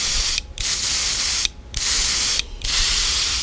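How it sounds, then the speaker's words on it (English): An airbrush spray gun lays on a heavy coat of pearl lime paint in three long, loud, steady hissing bursts separated by short pauses of trigger release. "This is a high spray."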